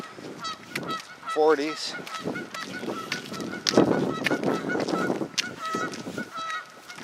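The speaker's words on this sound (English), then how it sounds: "A couple geese across the river making some noise, getting their swim on." Several geese honking across a river, loud repeated nasal honks in irregular bursts with chattering calls in between, moderately distant outdoors, with a brief spoken word in the mix.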